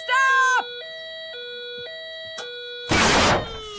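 A faulty electronic milking-time alarm beeps and warbles in a cartoon scene, giving a high electronic tone and a steady buzzing drone with repeated blips, then a loud burst of noise near the end.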